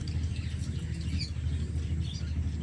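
Birds kept at a village home give a few faint, scattered chirps over a steady low rumble, quiet and somewhat distant.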